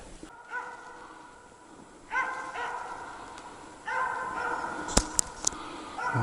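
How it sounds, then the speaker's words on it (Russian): A hunting dog barks at a capercaillie in the woods, several distant barks and yips coming in short bursts with quiet pauses between them, plus a few sharp clicks near the end. "Вон собака."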